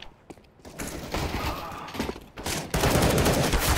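AK-47 fire in the CS:GO game, a dense, loud, continuous rattle of shots with brief gaps, heard up close, with game sounds mixed in and no clear talking.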